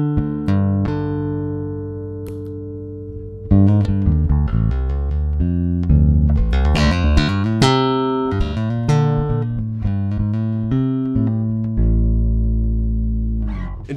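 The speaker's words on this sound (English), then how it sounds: "let's start with a modern active solo bass situation" Active bass guitar played solo through a Jam Pedals Dyna-ssor bass compressor on a subtle setting, giving sustained, squeezed low notes with busy plucked passages and a loud, even level throughout with no talking.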